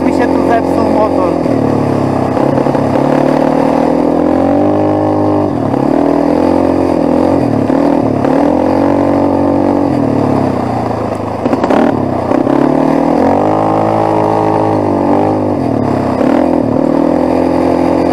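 Quad bike engine running steadily while riding through a forest at night, a loud continuous mid-pitched drone with repeated swells as the throttle rises and falls; a voice talks over it at times.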